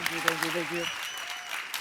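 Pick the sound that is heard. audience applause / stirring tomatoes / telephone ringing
audience applause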